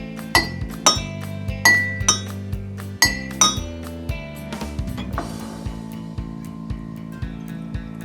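Glass jars and cups partly filled with water, struck as a homemade water xylophone, ringing out in a string of clear bright pings that start spaced and spread apart, then give way to a quicker run of lighter taps that fade out.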